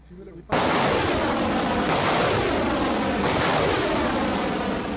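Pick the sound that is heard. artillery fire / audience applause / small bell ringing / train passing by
artillery fire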